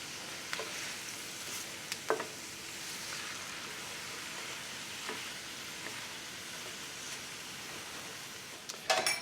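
Salted sliced onions sizzle softly in a skillet as they are tossed, with a low steady frying hiss broken by a few brief scraping and stirring knocks near the start and a sharper clatter at the end.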